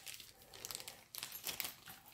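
A small plastic bag holding junk-journal fastener pieces crinkles and rustles close by in uneven bursts, with a louder crackle near the middle and softer handling around it.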